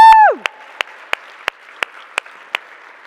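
Keynote audience on burnout applauds guests who came up on stage, a soft spread of clapping beneath a single close pair of hands beating a slow, steady rhythm, after a brief whistling whoop at the start.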